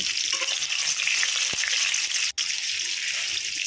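Bay leaf and ginger frying in hot white oil, a loud continuous sizzle with a sharp brief knock midway, no one talking.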